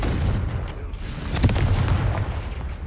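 Confringo explosive fire spell blast in Hogwarts Legacy, heard as a loud, rumbling burst with a sharp crack in the middle over sustained roaring noise.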